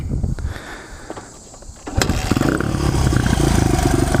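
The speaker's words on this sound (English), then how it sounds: "all you have to do right now is just listen to the engine" A motorcycle engine sits at idle at low RPM, a steady close rumble that grows louder and fuller after a sharp click about halfway through, then holds an even throb.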